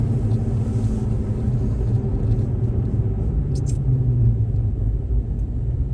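A car drives steadily along an open road in Canada, its loud, constant low engine and tyre rumble filling the interior with no pauses.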